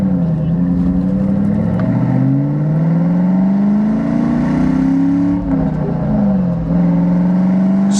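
A 1996 Ford Mustang Cobra engine climbs loud and close under throttle on a test drive, its pitch rising steadily, then dipping at a shift before pulling again.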